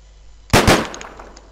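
A single sharp gunshot headshot in the pixelated action game Deadbolt: one loud, abrupt crack with a short ringing tail, standing alone against quiet background ambience.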